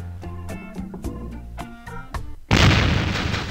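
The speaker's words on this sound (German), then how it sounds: "Wir bedienen mal die Kanone anstatt Wally." Music with a steady beat plays, then a single loud cannon blast in the video game Monkey Island 3 bursts out and roars on as a sustained, rumbling explosion.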